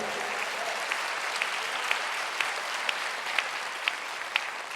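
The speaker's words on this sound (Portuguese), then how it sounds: "Aplauda o Senhor." A church congregation claps along, a steady bed of applause with regular louder claps landing about every half second in a rhythmic beat.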